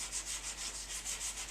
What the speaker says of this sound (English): Sanding this beautiful epoxy finish is not something I'm enjoying